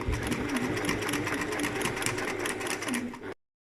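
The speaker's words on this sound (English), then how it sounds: "I want to back stitch just for a bit of strength, just over that seam, and then carry on" A sewing machine back stitches over a seam while making a lined messenger bag: a close, steady motor whirr with rapid needle chatter that runs continuously and then cuts off abruptly.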